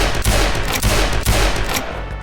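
Loud, close S&W revolver shots from Garry's Mod crack out in a rapid series of sharp reports with a dense, ringing tail, ending in a brief fade.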